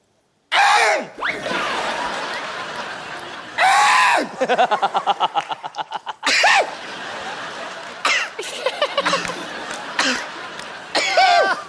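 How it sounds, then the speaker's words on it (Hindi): A woman makes repeated harsh throat-clearing and coughing bursts on The Kapil Sharma Show, some in rapid rattling runs, loud and close, with brief pauses between. "आप कब तक गला साफ करती रहेंगी?"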